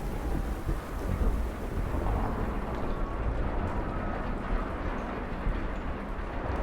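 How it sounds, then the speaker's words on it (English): A thunderstorm in the video game Kentucky Route Zero roars with steady heavy rain and deep rolling thunder, a dense, continuous wash that stays loud throughout with no voices. "the storm bears down on us"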